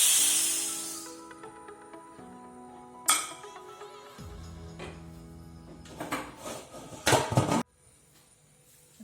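A pressure cooker of mutton biryani is opened, starting with a short hiss of released steam, followed by scattered metallic clanks and scrapes of the lid and pot, some louder knocks near the end, then quiet.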